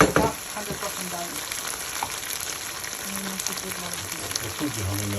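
Chicken fries on a stove, giving a steady, close hiss and crackle of hot oil that runs without a break, with occasional small pops.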